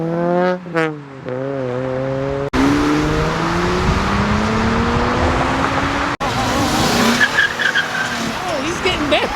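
A car burns out at a Houston car meet, its tires squealing and screeching loudly over a roaring engine, with crowd voices and a tonal whine early on.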